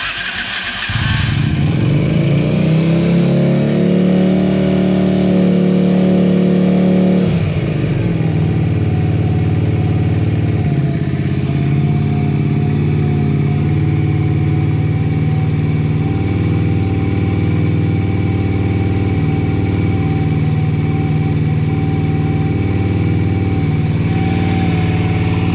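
A 2000 Yamaha XVS DragStar 125 cruiser with the choke on cranks briefly and fires up loud and close, revving high, then drops to a steady, rumbling idle that runs on alone.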